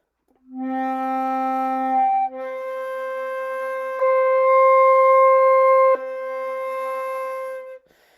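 A flute holds a series of clear sustained harmonic tones, stepping smoothly between pitches without breaks, the notes sliding up and back in a slurred line.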